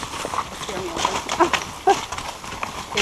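Horse hooves clip-clop on a tour route to a waterfall, a few irregular knocking steps at moderate distance under steady outdoor noise and ongoing talk.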